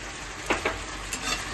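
Boiled pasta with salt is stirred in a frying pan, a steady close sizzle broken by a few short scraping strokes of a utensil against the pan.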